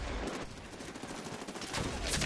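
Sniper rifle shots in the online multiplayer shooter Medal of Honor Warfighter, sharp broadband bursts over a dense, noisy battlefield background of continuous gunfire, with a louder blast near the end.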